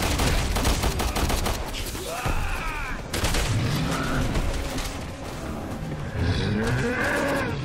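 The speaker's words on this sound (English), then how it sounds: "I'll shoot this guy over here." Gunshots against an enemy in Resident Evil 6 crack out amid loud, dense game noise, with low groaning, moaning voices running throughout.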